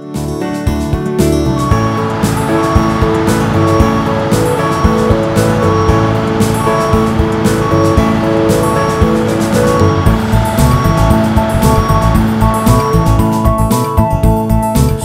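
A snow groomer reversing, its engine a loud, steady drone that fills the whole stretch, with a dense, rough roar and no pauses.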